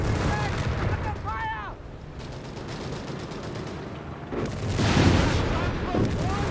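Artillery bombardment and gunfire rumble through a Company of Heroes 3 battle, with dense shots and booms swelling toward a heavier volley near the end. A commentator's voice runs underneath throughout.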